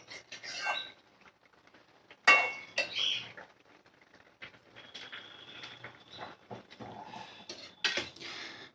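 Fish curry is spooned into a serving dish, with clinking utensils and light metallic scrapes scattered through the clip, one sharper clank standing out, all fairly close and soft.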